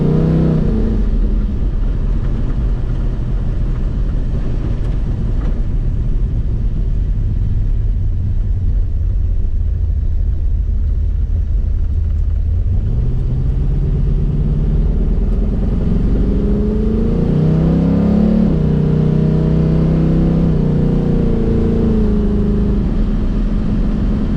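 A carbureted car, switched back from Holley Sniper fuel injection, drives with a loud, constant engine rumble from inside, its pitch climbing and dropping as it shifts gears at higher revs, with no talk.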